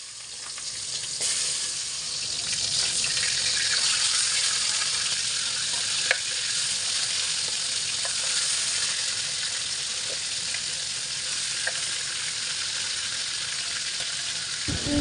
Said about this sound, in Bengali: এখন আমি ইলিশ মাছগুলোকে খুব সুন্দর করে একদম ভাজা ভাজা করে ভেজে নেব।